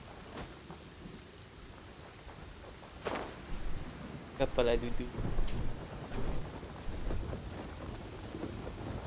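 A steady rain downpour hisses throughout, broken by a thunder crack and then heavier rolling rumbles, while a voice briefly speaks over it.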